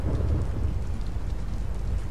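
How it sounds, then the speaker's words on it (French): Rain falls in a steady, dense wash with a low thunder rumble underneath during a thunderstorm in the PS4 VR game Herocade, continuous and fairly quiet, with no voices. "On a compris, il fait pas beau, on est en plein dans l'orage."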